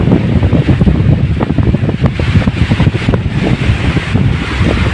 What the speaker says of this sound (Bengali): বাতাস তো আগের চাইতে অনেক অনেক বেশি ছাড়তে আছে।